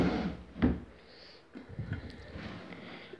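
A drawer in a baby's bedroom furniture slides open with a short knock and scrape, followed by soft rustling and handling sounds at close range in a quiet room.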